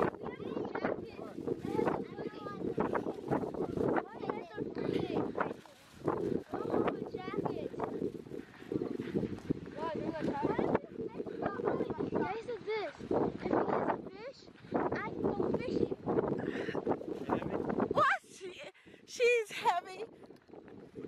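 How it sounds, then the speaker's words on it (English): Gusty wind buffets the microphone with low rumbling roars that rise and fall, while people talk under it. "Oh my gosh, it's windy."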